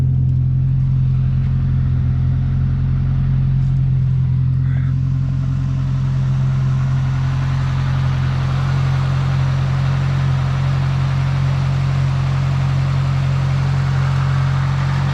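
A 1972 Ford Pinto Runabout engine with a Motorcraft carburetor idling: a loud, steady low hum with constant droning tone that holds evenly for the whole stretch, heard close up with no voices.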